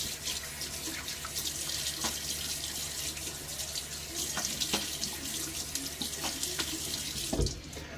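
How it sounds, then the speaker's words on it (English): Lukewarm water runs steadily from a bathroom tap into a sink and is splashed onto a face before lathering for a shave, heard close and fairly quiet, with faint drips and splashes in the stream. "that rinse right there, I used lukewarm water to not desensitize my face with the cold"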